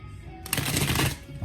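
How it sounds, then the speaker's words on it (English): Tarot cards riffled and shuffled by hand at close range, a dense papery flutter lasting about a second, with faint background hum and no talking. "So we're gonna shuffle these a couple more times"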